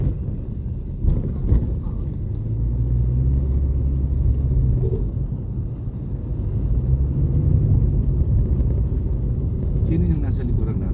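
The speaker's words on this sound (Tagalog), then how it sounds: "Sino yung nasa likuran natin? Sasakyan." A vehicle drives close behind, giving a deep, continuous rumble and road roar that swells and fades, overlaid by wind buffeting and people talking.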